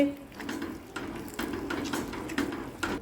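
Yogurt being stirred into turmeric masala in a pan for a Rajasthani fresh turmeric curry: repeated scraping and clinking of a spoon against the pan in an uneven rhythm, close but quiet, with no voices.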